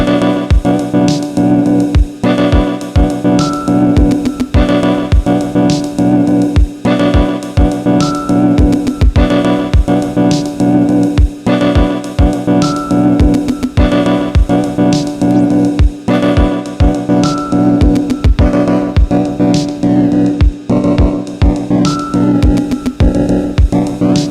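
An electric guitar riff looped in a Deluge plays over a steady drum beat, loud and continuous, repeating the same pattern throughout.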